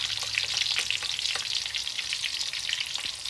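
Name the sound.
sautéing garlic and onion for beef steak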